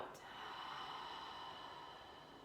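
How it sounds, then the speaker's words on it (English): A deep breath drawn in through the nose and let out through the mouth, a single soft, close airy inhale and exhale. "Take a big breath in through your nose. Open your mouth, exhale"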